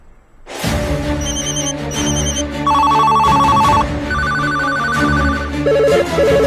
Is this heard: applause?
no